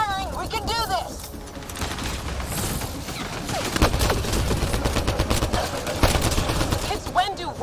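Sustained gunfire in Mass Effect Andromeda, steady bursts of shots mixed with chirping electronic effects and battle noise, while voices shout and talk over the fighting.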